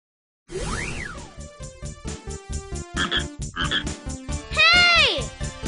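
A cartoon frog in an animated children's story croaks over and over, a string of loud, close, rubbery croaks with a few bouncy sliding cartoon calls mixed in, and no talking.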